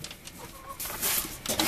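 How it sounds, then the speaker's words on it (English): Farmyard chickens clucking near a cow, short busy clucks rising out of steady outdoor noise, louder toward the end. "Those pesky chickens are bothering you too."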